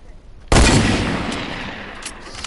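A sudden loud burst of AR assault rifle fire in a shooting video game, one sharp blast that decays over the next two seconds, with faint sounds trailing behind.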